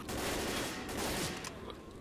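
Rapid gunfire from the Left 4 Dead video game, a dense, loud fusillade of overlapping shots that rattles on steadily for about two seconds.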